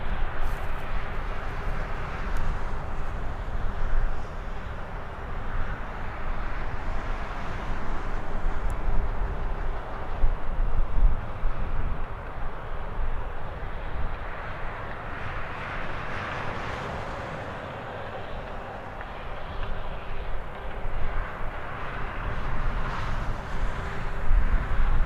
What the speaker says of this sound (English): As a guess, I'd say that was a Lufthansa.